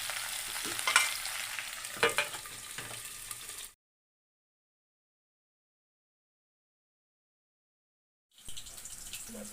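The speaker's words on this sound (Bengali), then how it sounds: "এটা অল্প অল্প ফুটে ফুটে এখানে ভালো করে একটু মজিয়ে নেবো।" Shukto curry with Radhuni spice mix simmers and fries in a pan, a steady close sizzle with some stirring scrapes, cutting out to silence midway before resuming.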